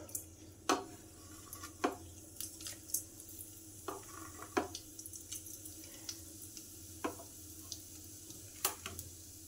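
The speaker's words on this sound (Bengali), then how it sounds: "কড়াতে তেল দিয়ে দেব আর ফোড়ন দেব" Whole spices tempering in hot oil in a wok, a soft continuous sizzle punctuated by repeated sharp clicks and scrapes of a utensil against the pan, faint and close with no voices.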